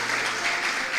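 Loud, dense applause from a church congregation fills the space, a steady wash of many hands clapping together without a break and no voices standing out.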